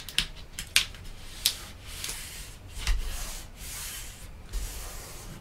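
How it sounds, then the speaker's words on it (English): Fingers pressing hard and rubbing over paper gussets of a pocket-page mini scrapbook album, giving soft close-up scuffing and rustling strokes with a few sharper crinkly taps early on, quiet and alone. "I just use my fingers and push it down real hard."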